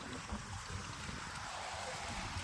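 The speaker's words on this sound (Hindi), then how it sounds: "दूसरा व्यू है, वहाँ से झरना पानी गिर रहा है।" A waterfall near a dam at Naugarh, India, gives a faint, distant, steady rush of falling water with no break, heard alone as a soft background hiss.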